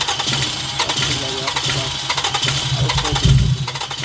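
A Toyota Highlander engine cranks repeatedly without catching, a fast rhythmic churning from the starter that continues steadily at close range, with a heavier thump near the end; the car has a fuel delivery fault.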